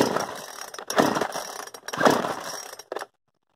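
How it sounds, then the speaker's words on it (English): A chainsaw's starter cord is yanked several times on full choke. Three rasping, ratcheting pulls come close by in quick succession, and the engine does not catch before a short silence. "pull the handle a couple times in the full choke"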